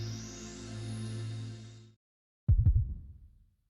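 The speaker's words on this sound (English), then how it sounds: "He heard the beating of a heart." A heartbeat sound effect from the video game Root Double: a sustained droning tone cuts out to silence, then a deep, thudding double heartbeat pulse sounds once and fades.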